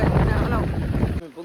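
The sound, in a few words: wind blowing while riding on the road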